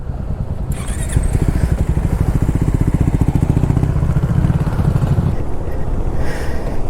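A motorcycle engine rumbles steadily close by on a coastal ride near Kashid Beach, pulling through loose ground with a low, even throb and wind noise throughout.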